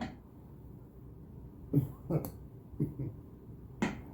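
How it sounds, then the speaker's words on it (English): Four short, soft coughs on request during a sleep study, spaced out over a few seconds against quiet room tone, no talking. "now cough a couple of times for me"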